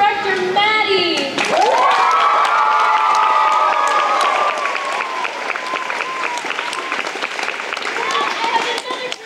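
A theater audience claps and cheers after a thank-you to an assistant director, with loud whoops and sustained shouting over dense clapping that stays strong for several seconds before easing slightly.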